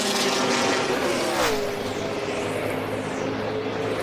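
NASCAR stock cars on the final lap of the 2008 Ford 400 at Homestead-Miami, a loud engine roar sweeping past with a falling pitch, then a sustained high drone from the pack.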